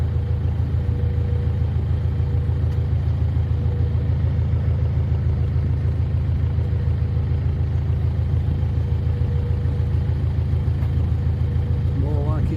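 A 37-year-old boat's engine cruises at a low 1,100 revs after a gearbox change, giving a steady, continuous low rumble with an even pulsing throb that holds without a break throughout.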